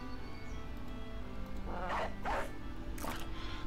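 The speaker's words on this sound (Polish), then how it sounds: "Puszczę psa." A war dog unleashed in a Battle Brothers fight: a few sharp barks or yelps ring out near the end over a low battle ambience, close and brief.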